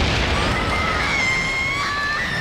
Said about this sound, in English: That was such a creepy scream